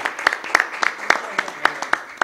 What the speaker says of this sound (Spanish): Le brindamos un aplauso a los integrantes del último panel de esta jornada